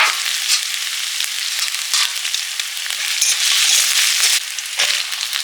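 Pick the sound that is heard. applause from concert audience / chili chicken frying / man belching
chili chicken frying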